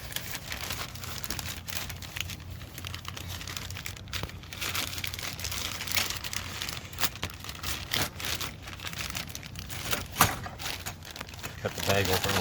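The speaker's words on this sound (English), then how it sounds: "I'm going to take them out of the plastic bags." Plastic bags are opened and crinkled while assembling a Digitek SX91, steady crackling and rustling close by that runs throughout, with a person talking over it.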